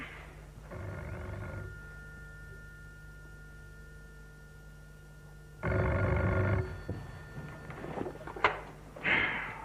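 An indoor telephone rings in two distinct bursts of tonal electronic ringing, loud against a quiet room, the second burst followed by faint handling clicks and knocks.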